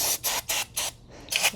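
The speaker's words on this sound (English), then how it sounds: "A little spray on the carburetor right there." Carb cleaner is sprayed in four quick bursts into a Craftsman pressure washer carburetor, close and loud with sharp hissing pulses and brief gaps, then a final longer burst.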